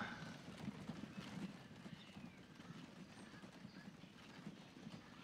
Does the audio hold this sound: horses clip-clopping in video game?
yes